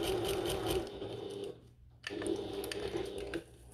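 A sewing machine runs over a thick bag strap tab on a bucket tote, two close steady bursts of stitching with a brief pause between them, no talking.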